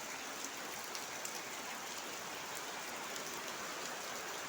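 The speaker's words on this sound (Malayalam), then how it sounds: "ഇവിടെ നല്ല മഴയാണ്" Heavy monsoon rain falls during the Kerala rainy season as a steady, dense hiss of downpour on surfaces, even and unbroken throughout with no voices.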